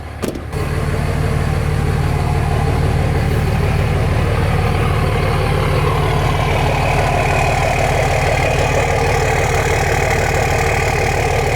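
A loud Cummins diesel engine swapped into a 2008 Ford F-350 dually pickup idles steadily after a brief starting noise, its low rumble and rhythmic clatter continuing evenly throughout.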